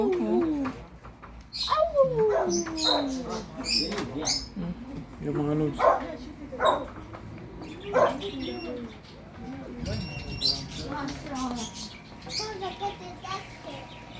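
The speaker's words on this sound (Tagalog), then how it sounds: "Ang cute ng aso." A small dog barks and whines in short bursts, with birds chirping and a person talking close by throughout.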